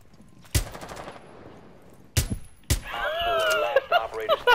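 Gunshots in a shooter video game: a single sharp report, then two more loud shots about half a second apart, followed by a stretch of busier noise with voices over it.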